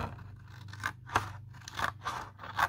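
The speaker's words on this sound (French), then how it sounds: "Vous coupez les petits morceaux qui sont là." Scissors snip through paper flaps while a surprise box is being made, giving five or six short crisp cuts at an uneven pace, close and fairly quiet, with no voices.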